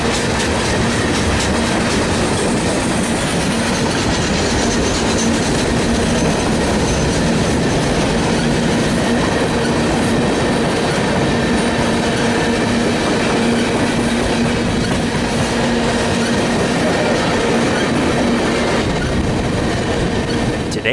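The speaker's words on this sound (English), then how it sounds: "This is CN train L516-7119, a local Geismar to New Orleans turn job." A CN local freight train, L516, rolls steadily past in New Orleans, a loud continuous rumble of wheels and cars with rhythmic clacking and a faint squeal, heard up close for the whole stretch.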